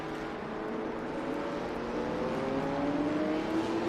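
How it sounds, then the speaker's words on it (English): Race cars of the rest of the field at Circuit of the Americas (COTA) in the Mission Foods series, heading toward the final corners after the checkered flag, producing a steady engine drone with a rising pitch as they approach. "Here comes the rest of the field making their way to the final couple of corners."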